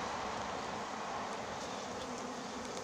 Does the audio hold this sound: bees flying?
yes